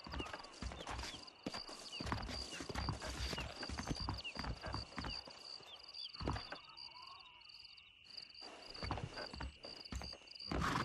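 Horse hooves clip-clop steadily in the Red Dead Redemption video game, several animals trotting at close range over a rural outdoor backdrop with insects chirping faintly.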